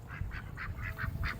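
Four ducks quack in a quick, steady series of about seven nasal calls, fairly close, over low background rumble.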